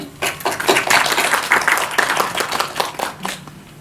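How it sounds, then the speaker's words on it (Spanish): An audience applauds to welcome a speaker at a university gender studies event, a dense burst of clapping that swells and then gradually thins. "La recibimos con un aplauso."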